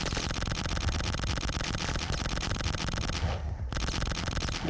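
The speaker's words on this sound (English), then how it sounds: "the shotgun at this stage is kind of busted. You just shoot so many so fast in such a wide area" Shotgun fire in the flash game Boxhead 2play, rapid loud blasts repeating in a dense, almost continuous burst with a brief break near the end before the firing resumes.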